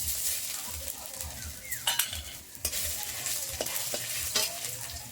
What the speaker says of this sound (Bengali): দিয়ে দিচ্ছি গোটা জিরে, ফোড়নটা পুড়ে গেলে দিয়ে দিচ্ছি আদা, গ্রেট করা আদা কুচিটা